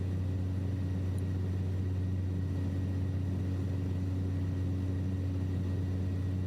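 Steady drone of a Black Square Caravan turboprop engine in a flight simulator during cruise, a constant low hum with even tonal whine, unbroken and moderately quiet with no talking.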